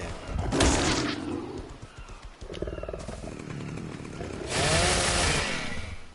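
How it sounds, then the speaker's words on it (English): A chainsaw in ARK Survival cuts into a trilobite in two loud revving bursts, a rough buzzing roar that swells, drops to a lower grinding idle, then revs up again, close and without talk. "I think I'll take a chainsaw to it."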